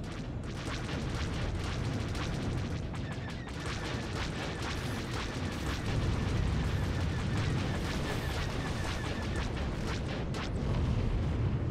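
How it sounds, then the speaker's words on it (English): Heavy cannon and missile fire from starfighters in the space-combat game SWTOR Galactic Starfighter, a dense continuous barrage of booms and bursts with a steady roar, loud and unbroken throughout. "Missiles away. Good hit. Switching to heavy cannons."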